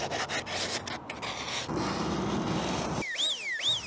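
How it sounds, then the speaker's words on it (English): Sandpaper rasps in steady back-and-forth strokes on a carbon fiber mirror cover for an Alfa Romeo Giulia, close and dry. A warbling, rising electronic chirp follows at the end. "Also, with the mirror cover, it'll help if we sand down the parts that are gonna make contact with this."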